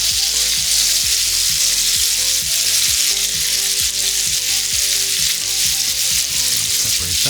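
Bacon sizzles loudly and continuously on a Ninja Sizzle griddle, a close, dense hiss with a rapid rhythmic ticking of spatters underneath throughout.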